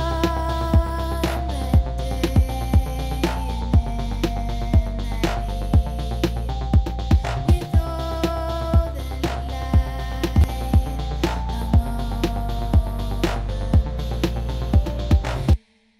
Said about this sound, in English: by reducing the amount of compressed signal and augmenting the amount of dry signal